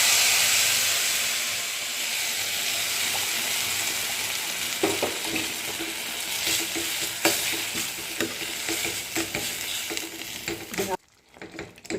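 Cooked dal and vegetables tipped into a pan and stirred, a steady sizzling hiss with scattered scraping ladle knocks building through the middle and a brief drop near the end.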